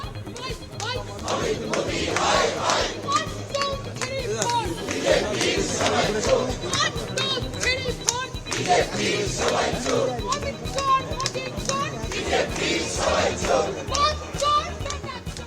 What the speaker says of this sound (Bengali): কেন্দ্রীয় স্বরাষ্ট্রমন্ত্রী অমিত শাহের উদ্দেশ্যে চোর চোর স্লোগান দেয় তৃণমূল বিধায়কেরাও